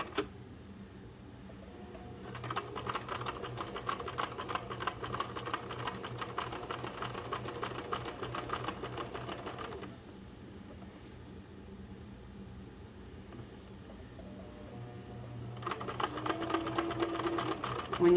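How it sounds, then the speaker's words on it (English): A sewing machine stitches a burp cloth in two steady runs of rapid mechanical whirring, with a quieter pause between them and a faint hum underneath. "And start sewing."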